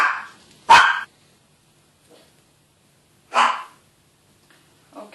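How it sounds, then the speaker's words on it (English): A few sharp dog barks, loud and nearby, separated by silence: one bark, a pause of a couple of seconds, another bark, then a faint start of a third. "don't mind the barking dogs"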